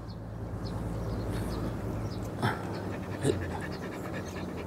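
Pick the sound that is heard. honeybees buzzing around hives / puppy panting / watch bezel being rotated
puppy panting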